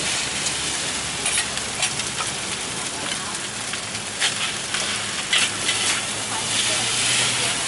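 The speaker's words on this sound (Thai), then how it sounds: "แต่ตอนนี้มาดูเขาผัดกันก่อนนะครับ ว่า เป็นอย่างไรบ้างน่ากินขนาดไหน" Seafood pad see ew is stir-fried in a wok at a night-market street food stall in Phitsanulok, with a dense, continuous loud sizzle and hiss and intermittent scraping of the spatula.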